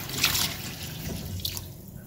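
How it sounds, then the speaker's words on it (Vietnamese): Water runs and drains from a sink as fish is rinsed clean before braising, a soft splashing trickle with brief brighter splashes, close and moderately quiet, no voices. "Đây các bạn xả nước và mình rửa lại cho sạch đi."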